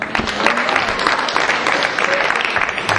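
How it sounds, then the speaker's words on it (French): A church congregation claps and cheers for the women, dense steady applause filling the room for the whole stretch, with scattered voices mixed into the crowd noise. "Est-ce qu'on peut acclamer pour les femmes?"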